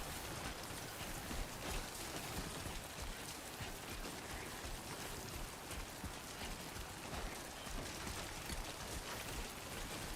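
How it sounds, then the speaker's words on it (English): Steady, dense rainfall in the video game Death Stranding, a constant hiss of drops on surfaces without letup, soft and even throughout with no voices. "This area is full of rain"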